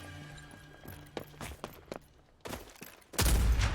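Gunfire in the shooter game Rogue Company: scattered single shots and short bursts with quiet gaps between them, ending in a loud, sustained volley of rapid fire.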